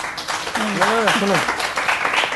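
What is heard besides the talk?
audience applause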